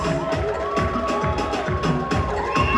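An audience at the Miss Congo France pageant breaks into loud, steady applause, with rhythmic clapping and some cheering filling the room throughout.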